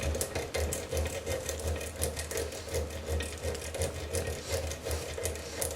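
A lock pick works the pins inside a Gege euro cylinder lock, producing a continuous fine, gritty scraping with rapid rhythmic ticks close to the ear.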